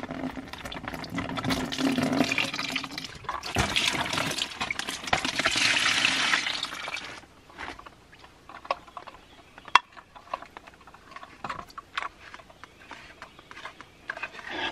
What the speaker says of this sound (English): I'll probably have to drain the water back out of the house